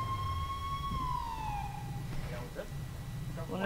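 A police car siren from the GTA V FiveM roleplay game sweeps in a steady wail that falls in pitch. It sounds close and loud over a constant low rumble, with faint talk underneath.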